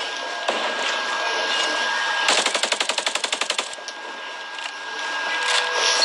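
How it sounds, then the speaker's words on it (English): Hostile automatic gunfire in Ghost Recon Breakpoint: a fast burst of about fifteen rounds from a short distance, set against quiet ambient game noise, with no talking over it. "Hostiles are firing."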